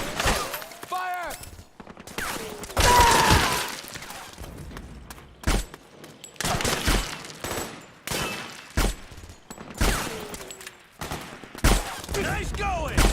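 Rapid bursts of gunfire in Metal Gear Solid 4, loud and close, with shots and short volleys broken by pauses and mixed with shouted voices and game effects.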